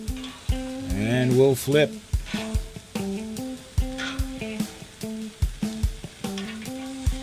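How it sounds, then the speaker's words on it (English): Pork rib chops sear and sizzle on a BBQ pit grill, a steady frying hiss running under background music while someone talks. "sear the other side of these chops just for a few minutes"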